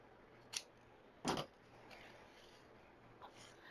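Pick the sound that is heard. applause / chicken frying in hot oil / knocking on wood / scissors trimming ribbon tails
scissors trimming ribbon tails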